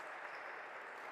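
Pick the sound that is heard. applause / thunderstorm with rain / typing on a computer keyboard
applause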